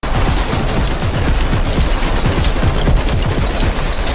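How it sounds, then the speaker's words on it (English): Dense machine gun fire in a movie action scene, loud rapid continuous bursts filling the whole stretch without pause. "Seizing a machine gun from the chaos, Marco mowed down every last one of Cyrus's men in a relentless onslaught."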